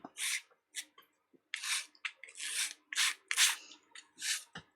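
A spatula spreading thick texture paste across a journal page, producing a series of short, close scraping and rubbing strokes in an uneven rhythm, each a soft gritty swipe separated by brief gaps.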